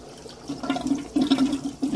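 Water flushing and gurgling through a barrel aquaponics system, a sputtering surge of splashing and bubbling that builds in bursts close to the listener.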